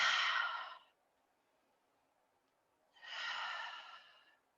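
Two long, audible breaths during a yoga session, each a close, airy sighing exhale of about a second, separated by a quiet pause.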